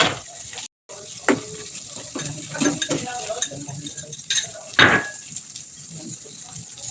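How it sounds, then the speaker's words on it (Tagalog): Moringa leaves being stirred with egg and tomato in a pan, with eggplant also in the dish: a steady, close scraping and soft sizzle with a few louder clatters, running throughout with no talking. "hinahalo yung malunggay sa itlog, sa kamatis"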